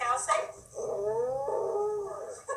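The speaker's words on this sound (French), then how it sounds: "Genre un chien qui imite la vache." A dog lets out a long, wavering howl that rises and falls, with drawn-out lowing tones, preceded and followed by short yips.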